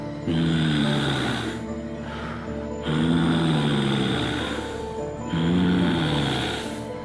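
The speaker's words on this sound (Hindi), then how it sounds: "उसको वही सांस की आवाज सुनाई देने लगी" Slow, heavy breaths, each drawn-out rasping inhale and exhale repeating about three times, loud and close with an eerie, unsettling tone.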